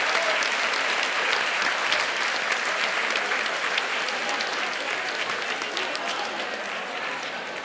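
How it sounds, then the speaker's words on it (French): A crowd at a municipal 100th anniversary ceremony claps warmly for a centenarian, with sustained, dense applause that eases off slightly toward the end. "On l'applaudit."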